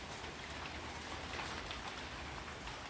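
Heavy rain falls outdoors in a dense, even hiss of countless drops striking surfaces, steady and continuous with no talk over it.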